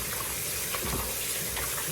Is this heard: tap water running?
yes